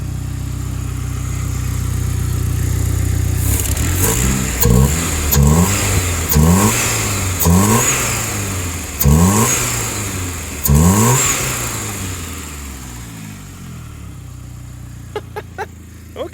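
A Saab 9-3 Aero with an exhaust leak revs repeatedly in close, loud bursts over a steady idle, each blip rising and falling before the engine settles and ticks near the end.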